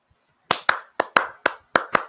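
Sharp hand claps in uneven pairs, about seven crisp strikes standing out loud and close against silence, with no talking.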